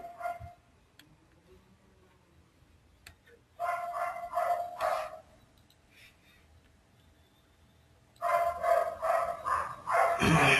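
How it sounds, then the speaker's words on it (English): A dog barks in short repeated bursts in the background during a phone call, one burst early, a longer run in the middle and another toward the end, fairly loud against a quiet room. "Is this your dog or your neighbor's dog?"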